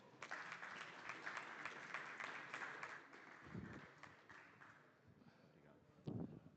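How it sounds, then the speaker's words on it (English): Applause from a conference audience for speakers on a football event planning panel, a steady dense patter of clapping that continues for several seconds and fades slightly before a brief louder burst near the end. "Please give them a big round of applause."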